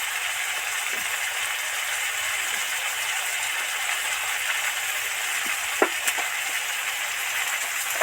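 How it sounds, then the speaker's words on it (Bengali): Steady hiss of panch phoron spices frying in hot oil in a pan, with a few small crackles and pops near the end; no talking. "এবার এই তেলের মধ্যে একটুখানি পাঁচফোড়ন দিয়ে দেব"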